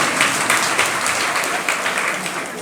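Audience at a Hindi Jain sermon bursts into steady, dense clapping that fills the hall, sustained and fairly loud throughout with no pause.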